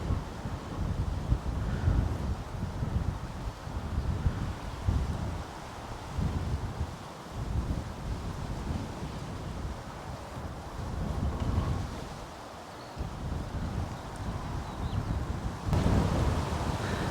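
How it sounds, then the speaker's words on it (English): Wind sweeps across an open field of wheat beside an old World War II airfield, a steady, loud rushing with gusty swells and heavy buffeting on the microphone, and no other sound. "Can the camera pick up the wind travelling across this?"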